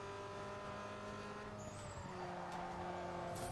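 Race car tires skidding as the car oversteers in a racing video game, with a steady engine drone and a thin squeal layered over it, close and continuous.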